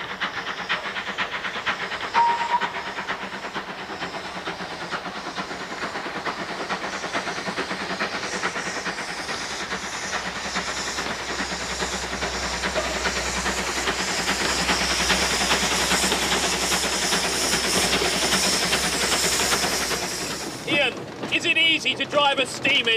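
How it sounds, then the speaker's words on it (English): A steam tank engine locomotive hisses steadily at close range, a constant broad rush of escaping steam that grows louder before cutting off near the end, with people talking over it. "It's a tank engine."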